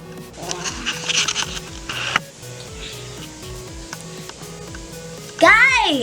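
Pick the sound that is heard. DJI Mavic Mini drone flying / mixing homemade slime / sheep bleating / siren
mixing homemade slime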